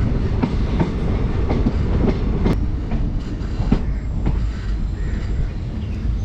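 Train 06602 Madgaon Special rolls through Mulki railway station, a loud, steady rumble with rhythmic wheel clacks over the rails throughout, close by and without voices.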